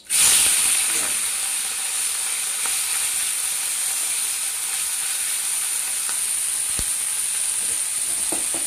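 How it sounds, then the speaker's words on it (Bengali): Mourala fish fry in hot oil in a wok, beginning with a loud hissing burst as they go in and settling into a steady, close crackling sizzle with occasional sharp pops. "এবার এই মাছগুলোকে আমি দুবারে ভেজে নেব।"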